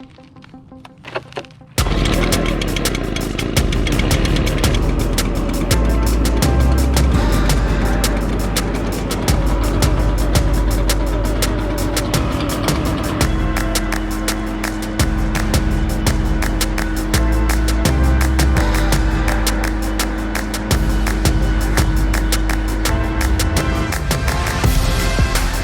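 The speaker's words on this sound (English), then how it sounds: "I'm just gonna take my gas-powered blower and just try to blow all this stuff out of here" A gas-powered leaf blower runs loud and close, its engine roaring steadily and without a break for the whole stretch, with faint shifts in pitch and pressure as it is swept around.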